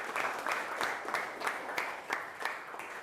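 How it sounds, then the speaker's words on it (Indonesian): A classroom group gives steady, moderate applause for two students, a brisk run of overlapping claps lasting a few seconds with no voices over it. "Aplaus dulu untuk Arya dan Linda"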